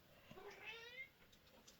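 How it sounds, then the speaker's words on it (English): A house cat meows to be let outside, one drawn-out, rising and falling meow, quiet and somewhat distant, heard alone in a room without talk. "And that's my cat meowing to go out."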